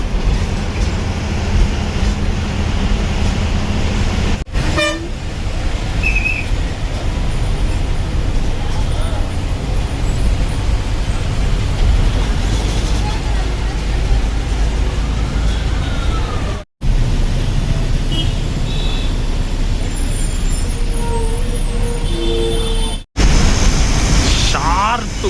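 A city bus on the Tiruvanmiyur to Kilambakkam route roars along at speed, a loud continuous rumble with rattling cabin noise and brief cutouts, while people talk over it.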